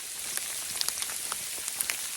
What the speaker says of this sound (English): is this hail or sleet?